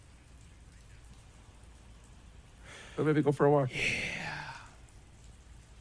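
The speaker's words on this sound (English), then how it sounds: "Well, it's raining." Steady rain patters across the whole stretch as a soft broadband wash, with someone speaking briefly over it partway through.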